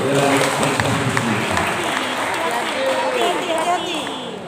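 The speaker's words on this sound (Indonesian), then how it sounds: "Kita beri tepuk tangan dulu" Clapping from a crowd at an Islamic quiz semifinal in Banda Aceh, a dense steady round mixed with chatter and voices throughout.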